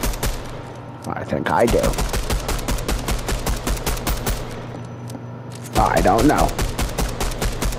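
Rapid, continuous gunfire from the DOOM video game rattles in dense bursts of close, punchy shots, with a voice speaking briefly over it.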